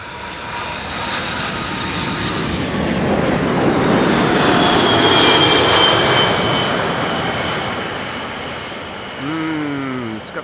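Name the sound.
Cargolux Boeing 747 jet with Rolls-Royce engines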